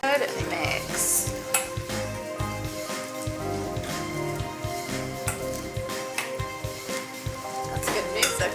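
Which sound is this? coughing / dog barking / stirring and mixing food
stirring and mixing food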